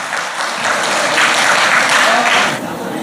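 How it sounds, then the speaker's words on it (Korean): An audience at a prayer meeting claps in a loud, dense round of applause that swells and then tapers off near the end, with no talking over it. "우리 박수 한번 더 쳐주세요."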